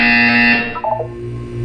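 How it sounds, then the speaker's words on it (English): A loud electronic buzzer from the Portal 2 video game sounds alone as a steady harsh tone, then falls away into a short wavering tail and a lingering low hum. "When you hear the buzzer, look down at the floor."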